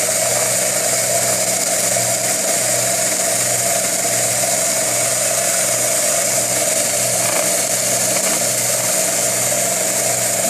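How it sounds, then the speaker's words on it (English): A homemade belt sander runs continuously at steady speed, giving a loud, even motor whine with a low pulsing hum underneath and no pauses. "A quick little belt sander. It's running real nice."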